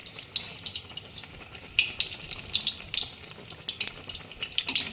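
Malpua batter frying in hot oil, a lively crackling sizzle with irregular bursts of spitting and popping, close and moderately quiet, with no voices.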